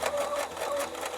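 Bernina B880 sewing machine quilting under its stitch regulator at a long stitch length, a steady loud motor whir with rapid needle chatter running continuously and close, with no talk.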